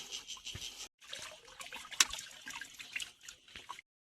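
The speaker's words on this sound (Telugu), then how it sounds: "ఇక్కడ 24 hours ఇలా వాటర్ వస్తూనే ఉంటాయి అన్నమాట." Mountain spring water runs from an outdoor tap near a temple in Gopeshwar, Uttarakhand. A faint, steady trickle and dribble is interrupted by a brief gap, with no voices.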